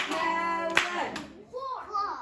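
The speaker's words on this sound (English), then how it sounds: "Okay, clap it really slowly." Children clap slowly in unison, a few spaced, distinct claps marking out the syllables of a word, with young voices speaking and chanting over and between the hand claps.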